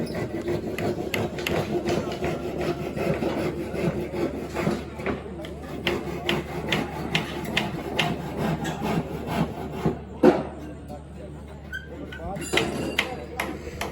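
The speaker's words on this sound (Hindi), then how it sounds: "ग्राइंडर चलन लगा हुआ है और फिर काफ़ी ज़्यादा शोर हो जाना इस जगह पर" A grinder works on plates at a bridge construction site in Mirpur, a steady rasping grind with scraping bursts under nearby voices and site noise.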